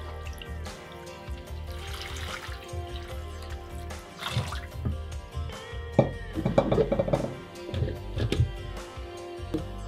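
Water pours into a container to mix Energy Plus powder for racing pigeons, about one liter to a 10-gram spoonful, with a steady trickling and splashing that swells toward the end.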